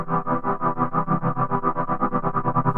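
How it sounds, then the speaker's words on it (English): A stereo analog panner acting as a Leslie cabinet simulator puts a steady, pulsing tremolo on a distorted, effected synth pad, the loudness swelling and dipping in an even, fast rhythm throughout, with no voice. "This creates a very nice tremolo effect."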